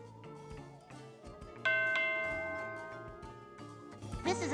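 A temple bell in the Scooby-Doo Unmasked video game gives one clear ringing strike that slowly decays, heard over soft game music.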